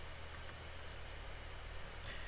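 Computer mouse clicks at a desk, three faint sharp clicks in quiet room tone, a pair close together and one a moment later.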